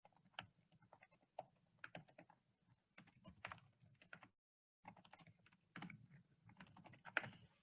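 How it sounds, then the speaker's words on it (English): Keys tap on a computer keyboard while a note is typed into an Excel spreadsheet, quiet close clicks in short irregular bursts with one brief silent gap, alone without talk. "So I'm going to type in my little note."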